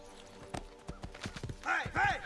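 Horse hooves clip-clop in a steady rhythm in Assassin's Creed 2, followed by a horse's whinny, with talk over the game sound.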